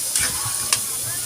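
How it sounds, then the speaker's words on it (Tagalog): Chicken minudo frying in a pan with garlic and onion, stirred briefly with a couple of quick scraping strokes over a steady sizzle. "So, halo-haluin lang natin hanggang sa maging labsak"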